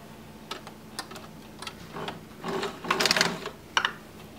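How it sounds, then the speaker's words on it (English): Sewing machine stitching in the ditch along a seam while shortening a nightdress with a gathered frill: faint, close, irregular ticking and short stitching bursts, building briefly into a denser run near the end. "When you're sewing into a seam like I am here."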